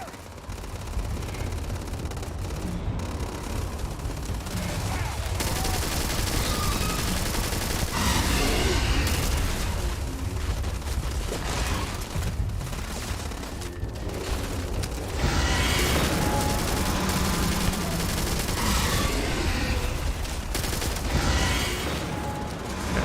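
Big gun in Starfield unleashing heavy, sustained gunfire: a dense, loud roar of continuous shooting and booming blasts runs for over twenty seconds without a break.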